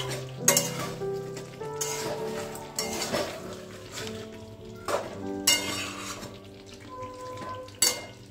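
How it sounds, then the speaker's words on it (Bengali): Chicken with capsicum and pepper being stirred in a pan in a home kitchen, a utensil scraping and clinking against the metal in repeated strokes over a steady close sizzle, with occasional louder knocks. "আরেকবার নাড়িয়ে দেবো, নাহলে তলায় লেগে যাবে"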